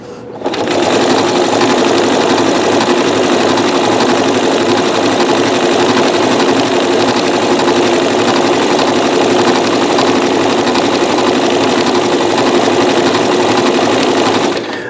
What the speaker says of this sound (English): I'm having you watch me sew this all the way around